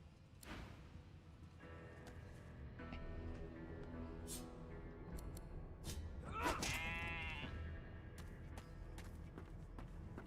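Sheep bleating in the Divinity: Original Sin II video game: a faint, wavering bleat rises midway over a quiet ambient background with scattered soft clicks and shuffles.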